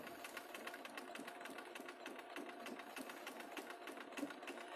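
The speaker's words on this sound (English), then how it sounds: "I'm going to continue sewing like this all the way to the end of the strip." A sewing machine stitches slowly and steadily along a fabric strip, a fast even mechanical rattle of the needle running continuously at moderate distance.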